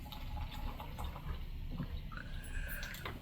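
Water is poured into fruit punch electrolyte beverage powder, a faint steady trickle filling a container nearby with a soft higher gurgle near the end, no talk.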